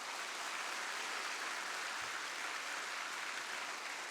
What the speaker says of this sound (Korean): 뜨거운 박수로 격려해 주세요.